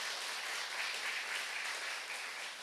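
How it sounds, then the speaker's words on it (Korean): Steady applause from a church congregation fills the room during a Sunday service, a dense even wash of clapping that holds throughout without a break. "이 주마다 한 번씩 해주시는 우리 세 자매님께 다시 한번 박수 한번 보내주세요"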